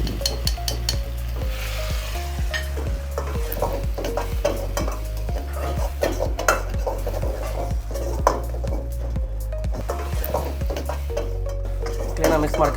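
Mushroom chilli being stirred in a pan with chilli sauce and tomato sauce, a steady scraping and clinking of a spoon against metal over a continuous sizzle, with faint talk in the background.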